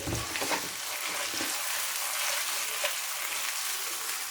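Onions sizzling and frying in a pan for a chicken and vegetable curry, a steady close crackle throughout with a few brief stirring knocks.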